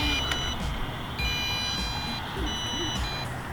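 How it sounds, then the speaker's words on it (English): Eachine EX2 mini brushless quadcopter drone emitting repeated high, steady electronic beep tones in on-off stretches over a constant buzzing motor whine, heard close up. "And I'll let you guys hear the drone too, but it's beeping as well"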